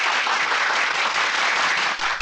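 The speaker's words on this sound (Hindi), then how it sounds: "बजाओ ताली।" A crowd claps in a dense, steady burst of applause, loud and continuous with no speech over it.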